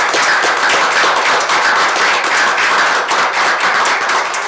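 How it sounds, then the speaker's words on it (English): A legislative forum audience gives a round of applause, dense and loud clapping that continues evenly throughout with no talk. "Could we give them a round of applause from this council?"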